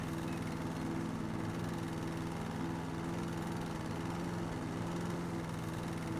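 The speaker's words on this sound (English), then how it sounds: "So we'll quickly do some mowing." A lawn mower in the House Flipper video game runs steadily while mowing, a continuous buzzing engine drone with a constant pitch and no pauses.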